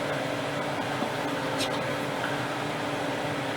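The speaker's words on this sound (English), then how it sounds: "I got the fan on, that's what the noise is in the background" An electric fan hums steadily in a home kitchen during cooking, a constant broadband whir filling the whole stretch with no breaks.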